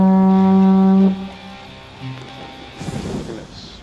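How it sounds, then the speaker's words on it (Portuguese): A horn is blown in the video game Salt and Sanctuary: one loud, sustained low blast that cuts off, followed by quieter game sounds and a rumbling swell. "Tá, vamos voltar com a corneta."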